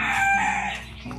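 A rooster crows close by at a chicken farm. The crow is a single loud, drawn-out call that fades toward the end, with no voices over it.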